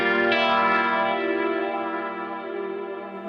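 Electric guitar solo run through a Keeley compressor and other effects, one long sustained note with a slight pick attack, smooth and even, fading gently with echo and chorus shimmer, played alone.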